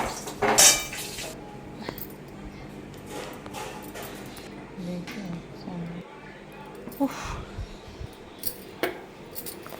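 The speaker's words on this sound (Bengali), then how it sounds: "এইবারে বাসনও মেজে রাখলাম" Dishes and cutlery being washed in a home kitchen after cooking, with scattered clinks and scrapes of pots, pans and utensils, a sharp clatter near the start, and a voice speaking now and then.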